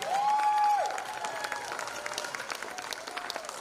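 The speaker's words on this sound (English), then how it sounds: "Let's give Daquan a round of applause" An audience at a high school hospitality academy event claps in a moderate round of applause, with a brief tonal sound at the start and some crowd murmur underneath.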